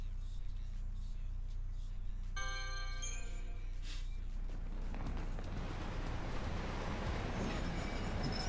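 Train ride in the video game Lightning Returns: Final Fantasy XIII, a steady low rumble of rolling rail cars with brief tonal menu chimes, building to a louder, broadband rushing roar toward the end, no speech.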